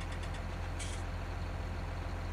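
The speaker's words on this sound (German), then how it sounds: "Handbremse." A truck's handbrake engaging in Farming Simulator 19: a short sharp hiss of air bursts out over the steady low rumble of the idling engine, with a few faint clicks just before.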